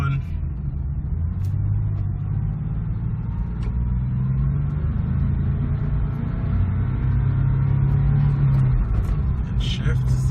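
A Porsche 996 with manual transmission hums as a steady, low engine rumble while moving through a clutch and gear shift, with mild rises in revs, heard up close under a person talking.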